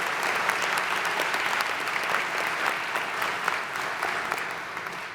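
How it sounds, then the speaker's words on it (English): Audience applause at a 2022 spring commencement ceremony in Rochester, NY, a dense, sustained clapping from a large crowd that fades slightly at the end. "Let's give them all a round of applause."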